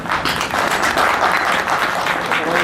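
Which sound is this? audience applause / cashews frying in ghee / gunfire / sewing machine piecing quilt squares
audience applause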